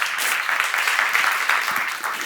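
A church congregation claps in steady, sustained applause at a Korean church seminar, fairly loud and continuous throughout.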